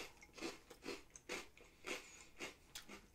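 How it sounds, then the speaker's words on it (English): A crunchy cinnamon sugar snack with a buttery, slightly pumpkin flavour is chewed close up, about seven crisp rhythmic crunches at a steady pace, quiet and without talking. "There's a lot of crunch to this."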